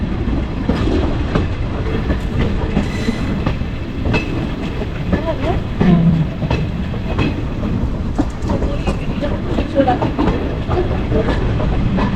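A train rumbles steadily along the Kollam–Sengottai line in Kerala, close and loud, with rhythmic clickety-clack of wheels over rail joints and continuous carriage noise throughout, no pauses.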